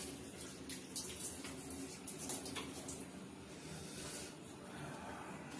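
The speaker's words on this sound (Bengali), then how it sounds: "মাংস ধুয়ে নিলাম।" Water runs steadily from a tap as meat is washed for biryani, a faint, continuous splashing and hiss with a few brief louder spatters.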